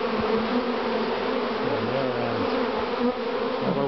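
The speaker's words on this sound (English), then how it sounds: "There's only about a couple of hundred bees outside now." A swarm of wild bees hums densely at the entrance of a hive box, a steady close buzzing drone with individual bees whining past now and then, no voices.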